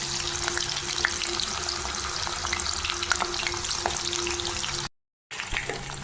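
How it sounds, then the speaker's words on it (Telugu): Pieces of dry fish frying in hot oil give a steady, loud, crackling sizzle throughout, close up, with a brief cut to silence near the end. "ఇప్పుడు ఈ కడ్డి చేప ముక్కల్ని ఇందులో వేసి వేయించుకోవాలి"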